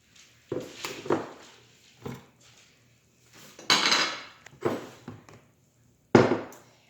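An egg cracked into a bowl for dulce de leche cookie dough in a home kitchen: a handful of sharp, close taps and clinks against the bowl rim, spaced irregularly, with quiet pauses between and no talking.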